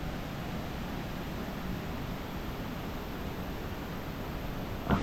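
A monsoon stream flows strongly in the hills around Kabbinale near Kudremukh, making a continuous broadband rush of water that stays steady and fairly loud throughout.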